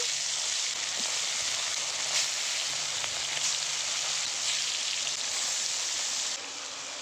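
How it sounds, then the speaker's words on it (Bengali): Rupchanda pomfret fish fries in hot oil, a steady, close hiss and sizzle holding evenly throughout, then dropping slightly quieter near the end. "ভেজে নেব"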